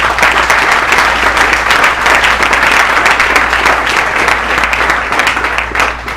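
A church congregation at a Sunday service applauds together, a dense, loud, sustained wash of clapping over a low steady hum, tapering slightly at the end.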